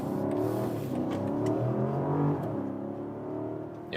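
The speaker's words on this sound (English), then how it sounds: "there you hear the V8 definitely even louder than in the US versions without that petrol engine particle filter" 2024 BMW X6 M60i facelift with its V8 petrol engine, no particle filter, revving under way in a cabin, a steady rising and falling drone with clear gear-change dips.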